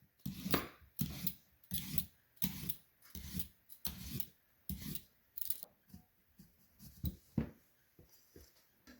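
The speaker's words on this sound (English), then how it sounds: "peel your potatoes with a peeler" Potatoes being peeled with a hand peeler, heard as a regular series of about sixteen short, close scraping strokes, each a brief rasp separated by small gaps, with no talking.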